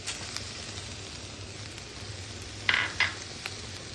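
Coconut and jaggery being sautéed in ghee in a kadhai over low heat give a faint, steady sizzle throughout, with two brief sharper scraping clinks near the end.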